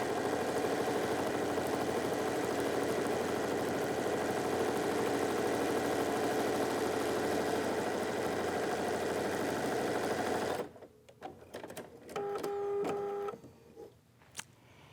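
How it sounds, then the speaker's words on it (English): A sewing machine stitching tucks into fabric runs at a steady fast whir for about ten seconds, then stops, followed by a few short clicks and a brief beep-like tone. "again, I return to the sewing machine"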